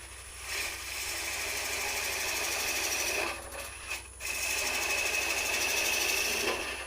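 Wood lathe spinning a wooden Easter egg blank, a steady loud whirring hiss with a tool cutting against the wood, briefly easing off midway before resuming, no voices.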